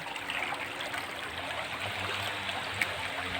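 River water flowing steadily, a broad continuous rushing wash like a stream or small cascade, close and even throughout with no talk.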